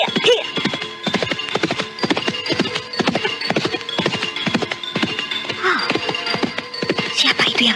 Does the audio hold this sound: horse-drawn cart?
yes